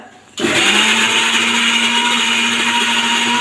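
A kitchen mixer grinder switches on abruptly after a moment of quiet and runs loud and steady with a high whirring whine and a constant motor hum, without talk.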